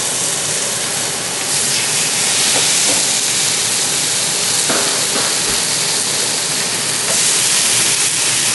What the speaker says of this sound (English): We're going to put a wicked sear on these pans.